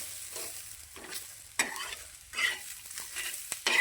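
Onion and spice masala with poppy seeds frying in a pan for a Malvani fish curry, stirred in a few scraping strokes over a steady close sizzle, with no talking.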